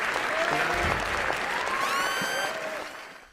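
A crowd claps and cheers in a short burst of applause, loud at first and then tapering off, with a whistle-like tone sliding through the middle.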